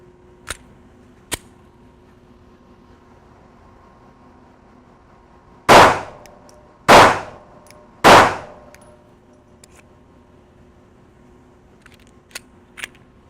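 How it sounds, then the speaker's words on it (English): A Glock 42 pistol firing hollow point .380 rounds at a bag outdoors: three loud, sharp, evenly spaced shots about a second apart, with faint clicks before and after. "the next gun we're gonna shoot is a Glock 42. It's got hollow point 380s in it."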